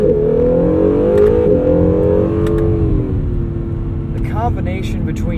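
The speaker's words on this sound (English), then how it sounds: "you hear the turbo spooling behind you, and that twin turbo V6" Twin-turbo V6 of a 2017 Acura NSX hybrid supercar, heard from inside the cabin: a loud, steady engine drone with rising and falling harmonic pitch and turbo whir, continuous throughout, with faint voice-like sounds near the end.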